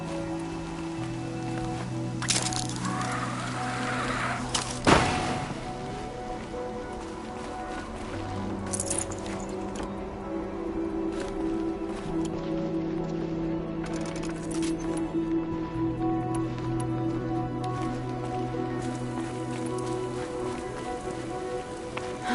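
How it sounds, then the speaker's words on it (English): Steady rain in the video game Horizon Zero Dawn pattering on a surface, continuous and fairly close, with a low musical tone running underneath and a sharp thud partway through. "And there's the rain."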